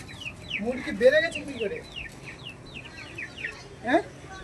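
Several chickens cluck nearby in short, repeated calls, with a louder squawk or two standing out against quiet surroundings.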